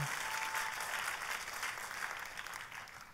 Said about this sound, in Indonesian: Oh, boleh saya dengar tepuk tangan yang paling meriah buat Yesus Tuhan kita.